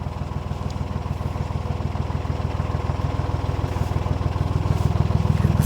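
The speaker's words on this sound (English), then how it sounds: "Right, so I'm just stopping the boat, pulling it in." Diesel engine of a narrowboat idling as the boat is stopped and pulled in to moor, a steady close-up rhythmic chugging throb at an even level throughout.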